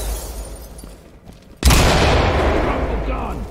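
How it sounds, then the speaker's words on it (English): A flashbang grenade detonates in the tactical shooter Ready or Not: after a quiet stretch, one sudden loud close bang at about 1.6 s gives way to sustained, high ringing noise that fills the rest of the moment. "Toss a flashbang."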